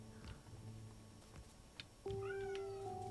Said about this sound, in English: Oh, the meow is real today. My goodness. We're having some real meowing going on.